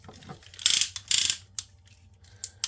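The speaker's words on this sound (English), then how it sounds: "A lot of clicky, a lot of clicky ratchets." The ratchet joints of a Pose Plus Baxinger action figure click as the limbs are moved, giving close, crisp bursts of rapid ratcheting clicks, two stronger runs followed by a few lighter isolated clicks.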